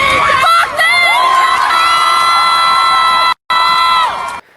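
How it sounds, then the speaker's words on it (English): A loud crowd cheering and shouting in London, with high-pitched yells and whoops layered together, cutting out abruptly for a moment before resuming. "This is the crowd in London."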